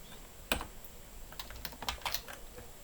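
Keyboard shortcuts are typed on a computer keyboard in IntelliJ IDEA, with one firm keystroke followed by a quick cluster of soft key clicks, close but faint, with no talk.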